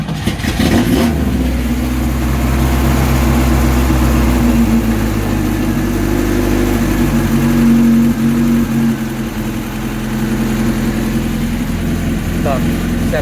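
An engine starts and runs steadily after being hooked up in a village setting, a loud, noisy idle with a deep low drone filling the whole stretch, louder and closer than any talk, with voices heard briefly over it.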